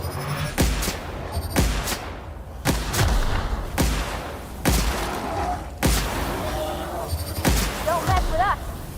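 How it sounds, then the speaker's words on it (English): Gunfire in The Outer Worlds video game: about eight sharp, loud shots spaced roughly a second apart, each with a booming tail, with brief game voice chatter near the end. "Opening fire!"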